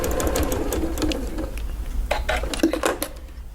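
A sewing machine stitches a project bag in short bursts of rapid mechanical clatter, close and moderately loud, with a few clicks between runs.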